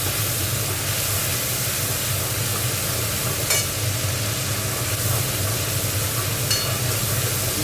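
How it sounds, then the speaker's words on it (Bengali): Spices with a little turmeric and Kashmiri chili powder fry in a pan for a vegetarian cauliflower roast, giving a steady, close, even sizzle with no talking. "মশলাটা একটু ভেজে নিচ্ছি।"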